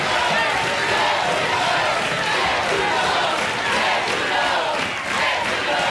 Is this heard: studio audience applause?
yes